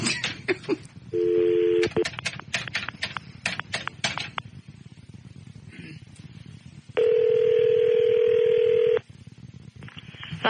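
A telephone number is dialed by hand, several button presses each giving a short tone, among clicks and handling noises, followed later by a long steady tone and then another brief one; no one talks.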